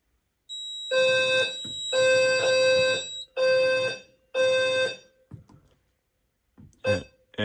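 A fire alarm system set off by fog-machine smoke blares in four long, loud harmonic bursts separated by short gaps, followed by brief quieter fragments, with no voices.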